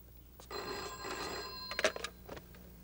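A telephone bell rings indoors, one sustained ringing burst followed by brief handling clatter, fairly close and clear with no talk over it.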